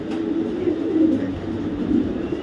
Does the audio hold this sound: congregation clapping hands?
no